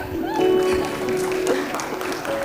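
An audience claps at the 2023 convocation ceremony of Ramaiah Institute of Management, giving steady, moderately loud applause for about two and a half seconds, with sustained tones and voices mixed in.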